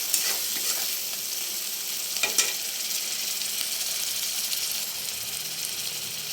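Potatoes with Kashmiri chilli, cumin and garam masala are stirred in a hot pan, giving a continuous bright sizzling hiss with a couple of sharper scraping strokes near the start, close and even.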